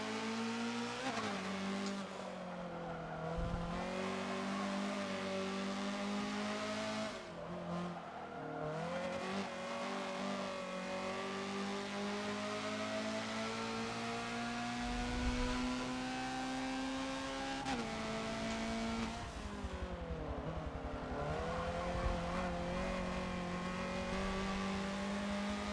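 A Honda CRX race car laps the Long Beach track in Forza, its engine a loud, continuous whine that climbs and dips through repeated gear shifts and braking, with no talking.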